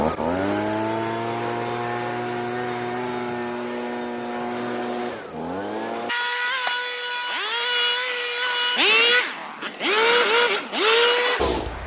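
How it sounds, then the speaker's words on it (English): A handheld leaf blower clears leaves off the top of a lawn mower deck, its small engine droning steadily before several loud revving surges near the end. "blow all the leaves on top of your mower"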